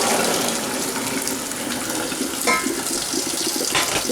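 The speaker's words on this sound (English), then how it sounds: "I'm going to get the cold water started." Cold tap water runs steadily into a sink for cooling blanched peas, a continuous splashing gush throughout.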